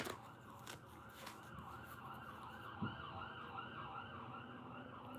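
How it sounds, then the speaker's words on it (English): Emergency sirens wail outside at a distance, their rising and falling tone steady and faint over low background hum. "Y'all hear them sirens?"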